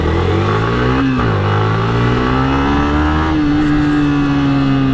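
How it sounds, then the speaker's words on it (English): Yamaha MT15 motorcycle engine revving as the throttle opens, a steady loud close-up exhaust note whose pitch dips briefly then climbs and holds high, continuous for five seconds with no talking. "Now when you open up the throttle"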